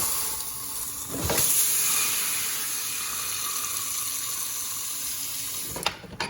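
A hot frying pan, just taken off the heat, is dropped into an uncleaned kitchen sink holding water; a sharp splash-clatter gives way to a long, loud hiss of steam, then a brief clunk at the end.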